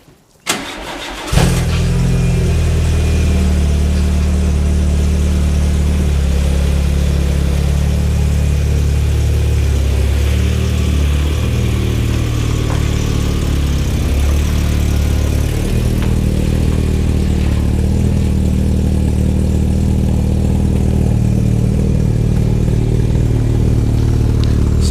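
A 1991 Mk2 VW Golf GTI with an 8-valve engine and a non-standard aftermarket exhaust cranks and fires up, then settles into a loud, steady, burbling idle that stays close and continuous for over twenty seconds with slight revving wavers.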